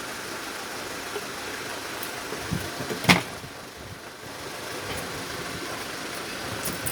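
A car engine idles steadily during hydrogen engine decarbonization, a constant mid-level hum with a brief sharp click partway through and no talking.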